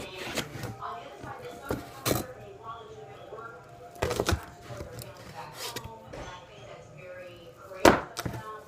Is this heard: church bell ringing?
no